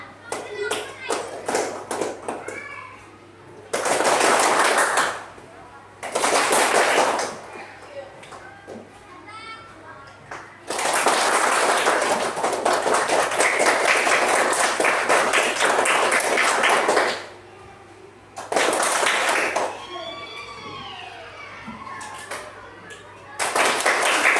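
A class of pupils claps hands in several bursts that rise and fall in loudness, with a teacher and children talking in the pauses between rounds.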